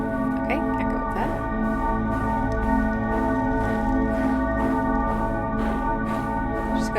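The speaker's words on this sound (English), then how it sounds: "Just gotta set all these bells ringing." Several bells in the game Aer ring in a steady overlapping wash of sustained tones, with repeated struck accents every second or so. The sound is fairly loud throughout.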